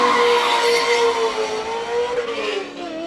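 A classic Ford Caprice races up a hillclimb course, its engine roaring loudly with squealing tires and shifting pitch as it passes close by, with no voices over it.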